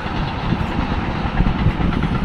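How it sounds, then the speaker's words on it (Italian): A train passes close by, producing a loud, continuous low rumble with rolling rail noise that holds steady throughout and no talking. "Adesso qui sta passando un treno"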